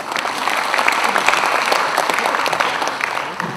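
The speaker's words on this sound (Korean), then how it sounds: "큰 박수로 환영해 주십니다." An audience at a social services training session applauds to welcome a Gyeonggi Welfare Foundation team leader, the clapping full, even and continuous throughout with no speech on top.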